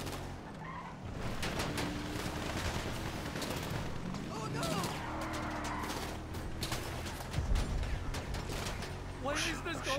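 Machine gun fire in Grand Theft Auto Online, rapid bursts of shots crackling repeatedly at mid distance, mixed with game effects and voices talking over the action.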